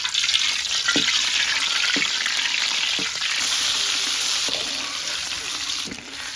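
Peeled boiled eggs fry in hot oil with salt in a pan, giving a steady, close sizzle with soft stirring knocks about once a second.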